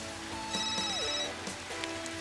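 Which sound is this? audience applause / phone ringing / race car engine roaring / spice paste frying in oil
phone ringing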